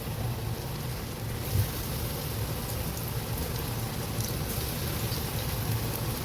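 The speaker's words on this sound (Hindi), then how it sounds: "ऑयल हमारा गर्म हो गया है। अब मैं इसमें एक एक करके चम्मच की मदद से पकौड़े ऐड करूँगी।" Pakoras frying in hot oil over medium heat, a steady dense sizzle and crackle of bubbling oil that holds evenly throughout with no voices.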